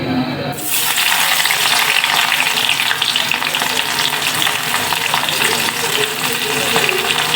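A sudden loud sizzle as onion, garlic and chilli hit hot oil before dried fish is added, then a dense, steady frying hiss with light stirring throughout.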